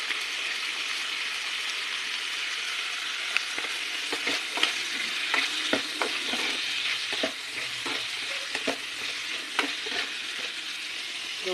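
A sautéed aromatic mix for a mung bean dish sizzles steadily in the pan, with scattered spoon scrapes and stirring clacks over the constant frying hiss.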